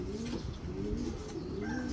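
Pigeons coo in soft repeated low calls on an overcast day, steady and fairly close over a constant background hiss.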